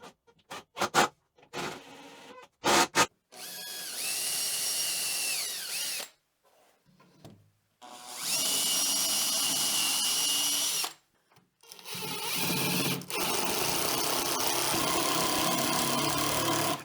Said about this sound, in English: this is just bolted on with big lag screws that I'm going to undo